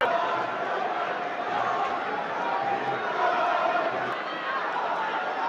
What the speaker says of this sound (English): Massive crowd here tonight.